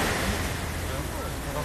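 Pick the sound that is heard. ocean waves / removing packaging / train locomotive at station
ocean waves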